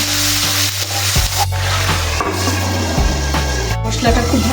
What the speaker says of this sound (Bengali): মশলাটা খুব ভালোভাবে কষানো হয়ে গেছে দেখুন।